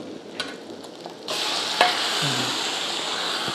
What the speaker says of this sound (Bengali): চিকেনটাকে ম্যারিনেট করে রেখেছিলাম, এটাকে ঢেলে দেব